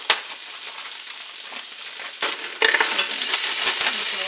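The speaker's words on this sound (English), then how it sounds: "Next up, I'm going to throw in a bag of stir-fry vegetables." A 16-ounce bag of stir-fry vegetables lands in a hot pan and hisses loudly, the sizzle jumping louder partway through as more pieces drop in, with spatula knocks and stirring.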